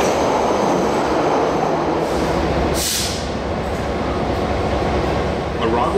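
A steam train on a South Island tour stands at Dunedin's 1906 railway station at dusk, giving off a steady, loud rumbling rail and engine roar with a brief hiss of steam near the middle, and faint voices underneath.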